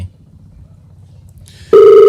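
A telephone call rings out loudly in one sharp tone at the end, after a quiet stretch of faint low murmur.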